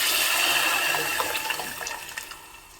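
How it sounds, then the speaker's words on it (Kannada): Water poured into a pot of cooked toor dal with turmeric, a strong continuous splashing gush that gradually eases off into lighter trickles. "ಸ್ವಲ್ಪ ನೀರನ್ನು ಹಾಕ್ತಾ ಇದ್ದೀನಿ"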